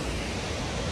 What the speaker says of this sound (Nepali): पानी बगिरहेको